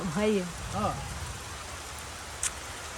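Steady rain pours down in a continuous, even hiss that fills the whole clip, with a voice speaking briefly over it at the start.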